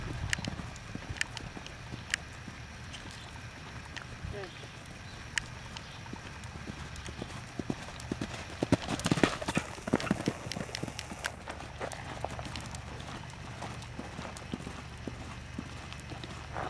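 A horse canters during a riding lesson, its hooves making a steady rhythmic clip-clop amid faint wind and background rustle, growing louder and busier toward the middle.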